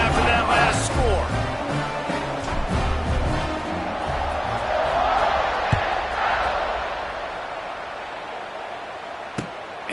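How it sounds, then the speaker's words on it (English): Football stadium crowd murmuring and buzzing after a score at a college game, a broad roar under a commentator's voice, with a couple of sharp thumps near the end. "this crowd is buzzing after that last score"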